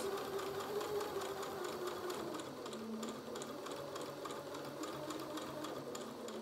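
A sewing machine runs steadily as it stitches a fabric bucket, a continuous close whirring hum that holds for several seconds without pause and with no talking.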